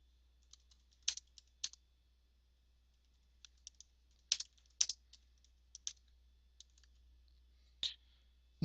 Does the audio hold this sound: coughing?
no